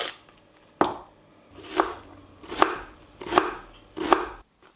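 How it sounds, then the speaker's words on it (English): Onion being chopped into chunks on a board for an oxtail and egg noodle dish: five distinct knife chops land at a slow, even pace, close and crisp, with no talking. "Now you just want to peel it, chop it into nice little chunks"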